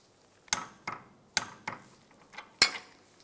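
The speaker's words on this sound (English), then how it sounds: "Now I'm going to torque these shock bolts to 44 foot-pounds." Several sharp metallic clicks from a torque wrench tightening the rear shock absorber bolts on a 1998-2010 Volkswagen Beetle, spaced unevenly and close up in a quiet garage.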